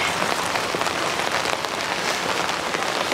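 Steady rain falls at a campsite in Umeå, a dense even hiss of drops pattering on surfaces close by, continuous and fairly loud with no talking.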